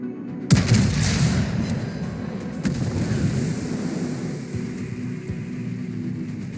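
Incoming artillery fire in the video game The Division: a loud boom bursts out near the start, then a heavy rolling rumble and crackling debris wash on for several seconds before slowly fading.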